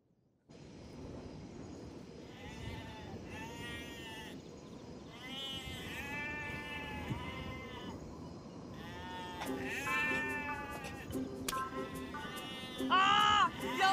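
Goats bleat repeatedly in a goat pen in an ancient Chinese period-drama setting, a series of close, wavering cries that grow louder and more frequent toward the end, with voices talking alongside.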